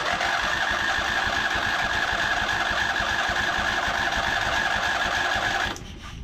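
A Craftsman V-twin engine pulled from a scrapyard is cranked by its starter in an attempt to start it, giving a loud, steady, rapid churning drone for nearly six seconds before it cuts off abruptly.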